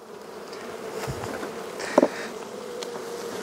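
A honey bee colony buzzing steadily in an open hive during queen caging, a continuous dense hum close by with a few louder individual bees passing near, and no talk.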